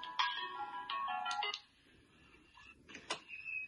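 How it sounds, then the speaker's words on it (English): An incoming-call phone ringtone plays as a bright electronic melody of short repeated tonal bursts, close and fairly quiet, with a brief pause before one more chirping burst near the end. "that wasn't a ringtone I recognized"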